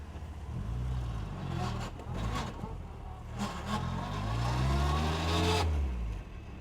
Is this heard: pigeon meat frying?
no